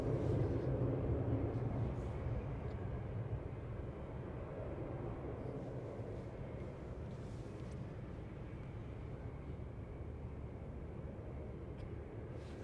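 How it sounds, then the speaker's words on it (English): An Air China airliner lifting off from runway 33 at Anchorage International, a steady broad low engine roar that is strongest at the start and eases slightly while holding constant, distant and sustained throughout. "Air China, a spectacular late liftoff on runway 33."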